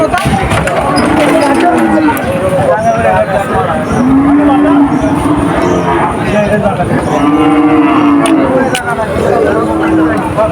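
Several cattle moo repeatedly, long low calls rising over a busy, noisy crowd with people talking throughout, at a cattle market in Bagerhat, Bangladesh.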